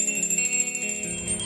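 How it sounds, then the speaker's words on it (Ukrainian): A school bell rings steadily and alone through the last-bell ceremony in Odesa, a continuous bright metallic ringing at even loudness throughout. "Лунає останній дзвоник."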